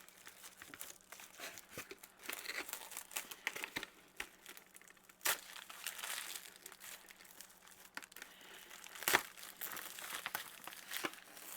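Plastic wrap crinkles and rustles as it is pulled and folded over homemade buttery pie dough in a home kitchen, a soft continuous crackling with a few sharper crunches, close and fairly quiet.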